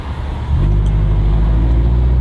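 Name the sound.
road traffic noise from cars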